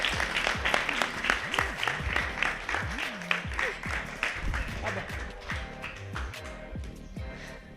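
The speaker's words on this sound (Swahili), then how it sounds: "mimi nipigeni makofi." An audience claps steadily and loudly throughout at a Burundian boxing event, with a voice speaking over the applause.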